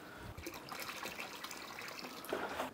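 Water pours and trickles steadily into a cooking pot for mutton dum biryani, a soft continuous splashing that swells louder near the end, with no talking.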